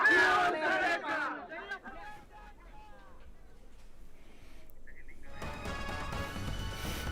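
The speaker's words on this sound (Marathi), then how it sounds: "शिवसैनिकांचा मोठा गराडा जो आहे" Large crowd of Shiv Sena supporters gathered at a rally, a burst of loud shouting and chanting at first that fades into murmuring babble, then a swelling roar of many voices near the end.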